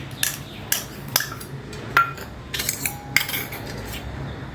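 A spoon clinks and scrapes against a bowl while tamarind juice, mango pieces, jaggery, salt, chili powder and neem flowers are mixed for an Ugadi dish, giving a few sharp, close clinks with no talking.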